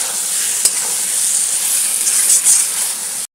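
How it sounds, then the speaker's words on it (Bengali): Fish masala with salt stir-frying in a pan for Bengali gule fish, a steady close sizzle and hiss with light scraping stirs and one sharp clink near the start, no voices. "নুন দিয়েও ভালো করে কষে দেবো"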